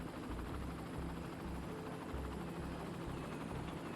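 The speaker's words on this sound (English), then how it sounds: "That's 2 helicopters landing simultaneously" Two helicopters landing at once in the city-building game Cities: Skylines, a soft, steady rotor buzz and engine drone, fairly faint and continuous without talk.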